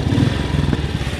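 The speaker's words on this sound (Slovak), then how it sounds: "Toto je teda zvuk stojatého jednovalca" A 1963 Matchless G80, a traditional English single-cylinder OHV motorcycle engine, standing and idling nearby with a steady low, loping chug and mechanical clatter.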